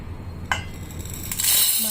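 Sago is tipped from a glass bowl into a pot, with a couple of sharp glass clinks followed by a dry, rushing pour of grains near the end. The sounds are close and brief, over faint kitchen background.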